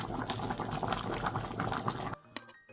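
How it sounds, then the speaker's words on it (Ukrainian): A pot of pork and bean stew bubbles at a steady boil over medium heat, with dense gurgling and popping close by, then the sound cuts to near quiet with a couple of faint clinks. "Поки усе кипить на середньому огні"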